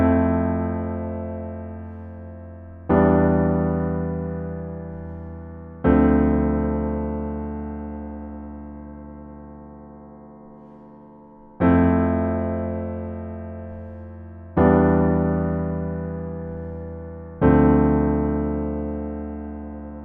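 A piano plays the pre-chorus of a song, six sustained chords struck at slow, even intervals, each ringing out and decaying before the next, clear and alone.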